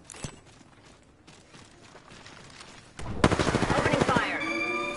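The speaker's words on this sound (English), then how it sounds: "Opening fire." Automatic gunfire in the Apex Legends battle royale video game, a loud rapid burst of shots erupting after a quieter stretch of movement and scattered sounds.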